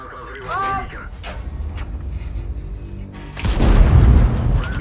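A tank cannon fires in a tank video game, a T-10 battling on the Himmelsdorf city map. A deep, heavy boom bursts out late and rumbles on, following excited talk and quieter in-game sounds.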